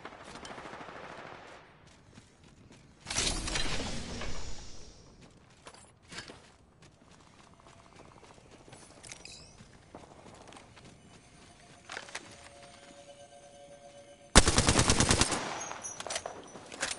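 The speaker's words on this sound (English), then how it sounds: "Volt SMG here." Volt SMG gunfire in Apex Legends: two loud, close bursts of rapid automatic fire, one short and sharp, the other longer, separated by a long stretch of quieter game ambience with scattered small clicks and footsteps.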